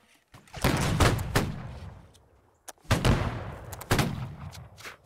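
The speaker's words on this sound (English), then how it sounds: "Continue firing at will, guys." Musket volleys ring out in a Napoleonic line battle in Holdfast: Nations At War, with dense overlapping cracks in several loud waves, scattered single shots between them and a rumbling tail after each volley.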